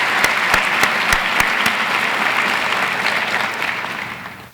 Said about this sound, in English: Let's give these folks a hearty round of applause.